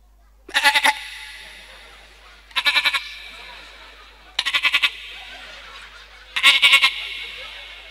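A man vocally imitates a young goat, giving four loud, quavering bleats spaced about two seconds apart over a microphone at a live religious gathering.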